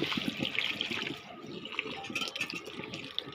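Water splashing and trickling as a cloth rag is wetted to clean dirty vehicle rims, a short close burst of running and dripping water with soft wet handling sounds.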